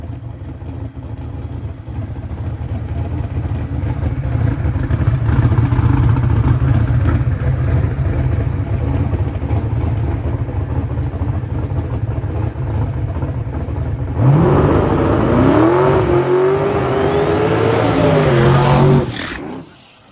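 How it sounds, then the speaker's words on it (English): A station wagon's engine roars loud and steady through a burnout, then the pitch climbs and strains sharply before the sound cuts off abruptly at the end. "Burnout."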